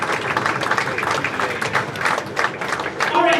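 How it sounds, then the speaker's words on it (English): Audience applause for sponsors at a youth bowling tour awards ceremony, a steady wash of clapping hands lasting the whole stretch with some crowd noise mixed in, fairly loud and close. "please give all of our sponsors a nice round of applause"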